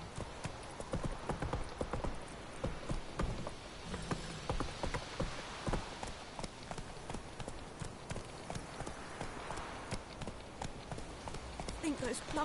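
Roach the horse gallops along in The Witcher 3: Wild Hunt, its hooves clopping in a quick, steady rhythm over a bed of game ambience for the full stretch.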